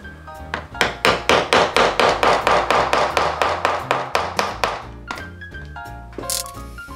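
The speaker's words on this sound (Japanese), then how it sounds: "線を引いたんで、これから目打ちやっていきます。" A pricking iron is hammered through leather to punch stitch holes for a DIY leather cover for a Nitori skillet and gas canister. About eighteen sharp, even knocks come in a steady, close rhythm, then fade to lighter taps.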